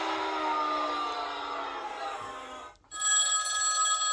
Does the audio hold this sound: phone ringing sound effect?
yes